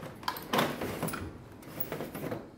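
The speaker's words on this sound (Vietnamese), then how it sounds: "Nếu mà chúng ta có ống mực mới thì chúng ta rút ống mực này ra" A toner cartridge is pulled out of a Xerox 5335/3065 office printer, giving a few short plastic clunks and a sliding scrape close by, with a sharper knock around the middle and softer rattles after it.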